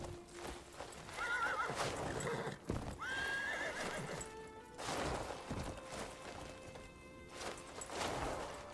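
A horse in the Crimson Desert video game whinnies twice in quick succession over steady clip-clopping hooves, the calls loud and close against continuous background game sound.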